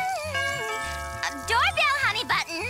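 A cartoon doorbell chimes a short ding-dong near the start, followed at once by animated characters talking.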